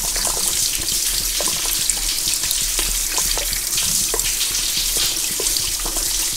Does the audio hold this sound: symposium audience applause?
no